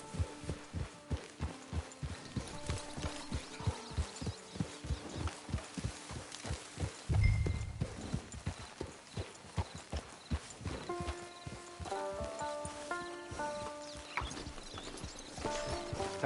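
Horse hooves clip-clopping in Red Dead Redemption 2, a steady rhythmic trot of many footfalls that continues throughout under game music and ambient tones, with a brief low thump midway.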